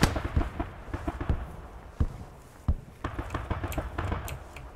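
Mortar shells landing in the tactical shooter Squad, a scatter of sharp blasts, two heavier impacts standing out, over a low rumble of distant battle with crackling small arms and occasional soft thuds.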